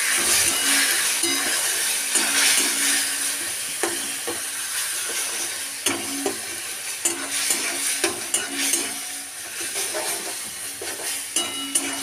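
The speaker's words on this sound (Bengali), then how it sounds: "এটাকে খুব ভালো করে মশলার মধ্যে কষিয়ে নেব।" Ground coriander, cumin, chilli and turmeric powders sizzle steadily in a hot pan for a fish curry, with a constant frying hiss and repeated clinks and scrapes of a spoon stirring the spices throughout.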